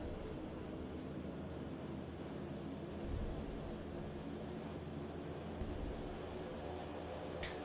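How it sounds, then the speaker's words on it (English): A Thranda Kodiak single-engine propeller plane taking off on runway 16 right in a flight simulator game, a steady, loud engine drone with a layered low hum holding constant throughout. "Tower, 16 right, straight out departure approved, clear for takeoff"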